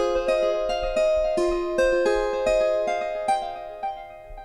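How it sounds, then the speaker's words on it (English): Plucked harp from a UVI software instrument, fed through a FabFilter Timeless 3 delay, plays a steady run of bright notes, each one trailing soft repeating echoes that blur into a continuous shimmer. "So in this case, I have this UVI harp here"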